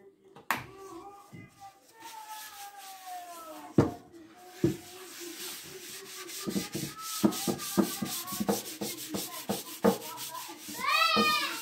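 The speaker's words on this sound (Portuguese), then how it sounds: "Passar óleo de milho nela pra ela ficar brilhante e pra conservar a madeira." A cloth rubs corn oil into wood in a rapid series of close squeaky and scuffing strokes that speed up over time, with a few louder knocks and faint children's voices in the background.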